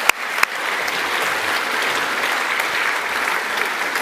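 Crowd at the Northern Territory 2021 Australian of the Year Awards applauding Dr. Miriam Rose, a steady wash of many hands clapping from the room, opening with a couple of sharp louder claps.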